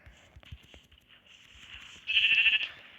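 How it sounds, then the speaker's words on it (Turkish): Sheep in a video game bleat in short calls over a soft background, and one louder, longer bleat rises near the end. "Şu koyunları da alalım da lazım olabilir."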